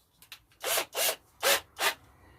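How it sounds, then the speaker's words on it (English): A drill moved sideways through wood to join holes into a slot, four steady rasping strokes close up after two short taps, in a workshop with no talking. "I just got to join them up by moving the drill through there."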